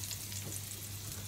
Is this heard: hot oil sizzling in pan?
yes